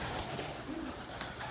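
Homing pigeons coo softly inside a loft, giving a brief low murmur against a noisy, hissing background with no talking.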